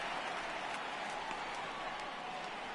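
Steady broadband crowd noise from a sold-out stadium in the baseball video game MLB The Show 18, a constant wash of murmur and faint applause with a few brief sharper accents, moderately quiet throughout.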